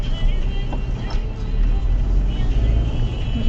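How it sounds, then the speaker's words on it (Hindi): Steady road traffic rumble from inside a car on a drive between Vishrantwadi and Lohegaon, with a vehicle drawing near; continuous low engine and road noise at moderate loudness, no talk. "गाड़ी आ रही।"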